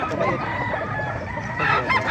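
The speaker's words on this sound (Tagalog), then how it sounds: "Nagaganda ng mga manok, oh." Close, loud rooster crowing among clucking chickens at a gamefowl farm in Bocaue, Bulacan, with a second crow rising near the end.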